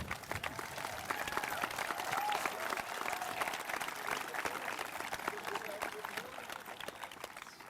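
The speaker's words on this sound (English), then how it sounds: "let's have a round of applause for our graduates" Sustained applause from a graduation audience at Catskill High School's 2013 ceremony, a steady wash of many hands clapping at moderate loudness, with faint crowd murmur and no clear talk.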